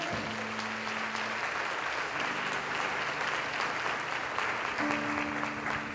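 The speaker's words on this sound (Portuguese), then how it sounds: "aplauda ao Senhor" A church congregation at a Portuguese-language worship service applauds steadily and densely for several seconds, with sustained keyboard or organ tones underneath.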